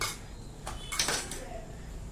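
A spoon or spatula scrapes and clinks against a pan while a tomato and onion curry is stirred, with a few short metallic knocks near the middle over a low steady background hum.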